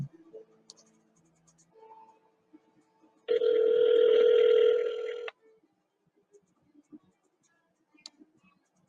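A telephone call rings out in a short electronic burst, then a faint automated recorded message plays quietly with small clicks.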